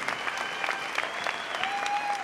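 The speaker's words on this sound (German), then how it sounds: "Ja, geben wir einen Applaus." An audience at a conference applauds a speaker, with a moderate round of clapping that keeps an even pace and a faint tone running underneath.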